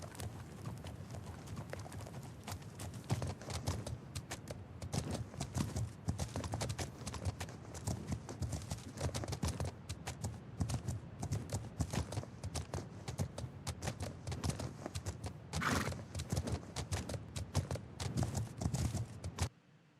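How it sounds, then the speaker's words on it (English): Galloping horse hooves in the video game Legend of Khiimori, a steady, dense clip-clop rhythm that runs unbroken for the whole stretch at a constant, fairly loud level. "If you force your horse to run when stamina's depleted, it'll take damage."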